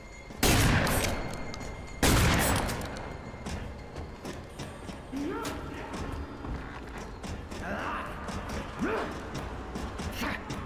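Shotgun blasts from the first-person shooter F.E.A.R. 3: two loud, booming shots about a second and a half apart, followed by softer game action, clanks and distant combat noise.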